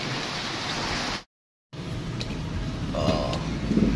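Steady rain falls outside a repair shop, a broad continuous hiss that briefly drops out before resuming, with faint clinks near the end.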